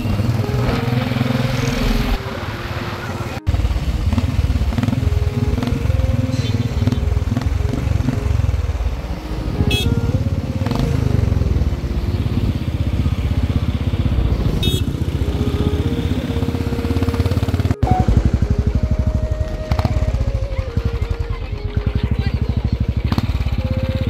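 A Bullet motorcycle rides along a road near Mangalabari during a wedding outing with friends, its engine a steady, loud, throbbing drone throughout, with voices and singing faintly mixed in over it.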